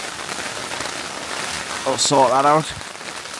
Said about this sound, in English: rain's been battering the tent for like the last 3 hours